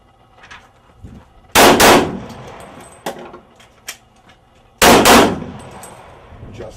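Gunfire from cover on a shooting range: two loud, sharp rifle shots roughly three seconds apart, each ringing out briefly, with a few fainter clanks and knocks between them and no talking.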